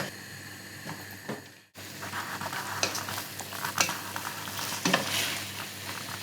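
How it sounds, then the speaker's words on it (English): A chickpea and potato curry (aloo chole) bubbles and sizzles steadily in a pan, with a brief break early on followed by soft scraping stirs and occasional utensil clinks against the pan, close up and with no talking. "Let this chickpeas absorb all the flavorings of the spices and all the ingredients blend together. Leave it to simmer for a few minutes."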